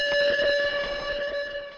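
A tonal snare sample treated with distortion, flanger, delay and EQ rings as a sustained, buzzing pitched tone with a wavy, smeared tail, loud and alone.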